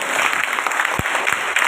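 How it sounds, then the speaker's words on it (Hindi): Audience applause welcoming someone speaker to the stage at a rural women's gathering in Udaipur, continuous and fairly loud, a dense crowd of claps with a couple of low thumps. "जोरदार तालियों से मैडम का स्वागत"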